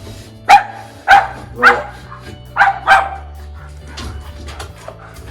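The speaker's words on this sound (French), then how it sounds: "Oh là là, j'ai tous les chiens qui rentrent là. Allez, sortez!" Several dogs crowd into a room where chicken eggs are being set in an incubator, letting out five loud, sharp barks about half a second apart, followed by softer yips and whimpers. A voice briefly speaks at the start.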